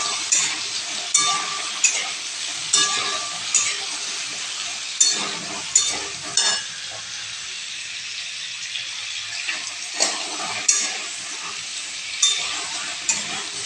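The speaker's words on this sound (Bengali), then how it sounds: "টমেটো আর হলো আলুটা ভালো করে ভাজা হয়ে গেছে" Raw tomatoes and boiled potatoes fry together in a pan for a potato curry with paneer. A steady hiss runs under repeated scraping stir strokes that come roughly every second, pause briefly in the middle, then resume.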